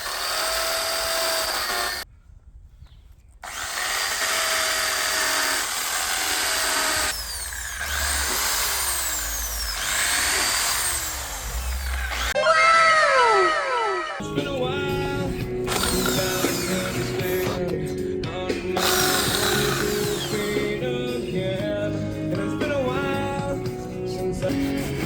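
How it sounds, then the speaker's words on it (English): A power drill boring into wood during a carpentry session, with loud sustained whirring bursts broken by short pauses, a screeching stretch midway, then continued grinding and rattling. "Oh, the drill bit broke, dude."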